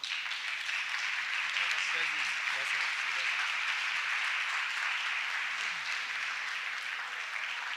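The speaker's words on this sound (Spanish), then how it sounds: "Démosle la bienvenida con un fuerte aplauso." An audience at a Catholic communications conference applauds to welcome the speaker. The clapping is a steady, even, distant-sounding wash, with faint voices murmuring underneath.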